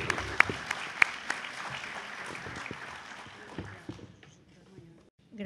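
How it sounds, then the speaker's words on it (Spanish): Seminar audience applauding for a guest speaker, a dense round of clapping with a few sharp claps that thins and fades out over a few seconds, with a voice briefly heard in the mix. "Por favor, uma salva de palmas"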